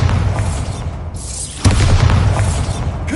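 A Bombarda blasting spell goes off in Hogwarts Legacy with a heavy, booming explosion, then a short dip and a second loud rumbling burst.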